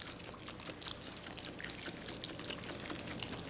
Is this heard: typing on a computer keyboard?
no